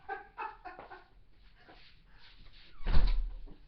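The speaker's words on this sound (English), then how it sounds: "she's going to close the door and not me" A door is pushed shut outdoors on a very windy day, making one fairly loud thud near the end after faint background noise.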